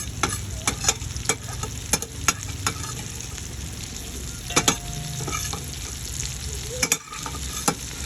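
Ground pork frying in a pan with browned onion and garlic gives a continuous close sizzle, punctuated by regular sharp taps and scrapes of a spatula stirring the meat; no voices.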